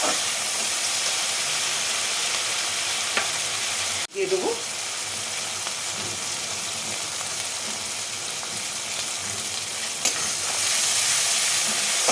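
Frying and stirring in a pan for koi fish curry with taro, a constant loud sizzle and hiss with scraping stirs and a sharp clatter partway through, no speech.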